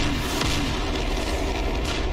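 A loud, sustained roar of an air-to-air missile launch from a JF-17 Thunder jet in the DCS flight simulator, a dense rushing blast that fills the whole moment with no break.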